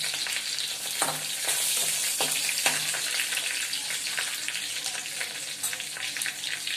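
Curry leaves dropped into hot oil sizzle and crackle while a Malvani-style egg curry is cooked at home. A steady frying hiss carries short pops and stirring clatter throughout.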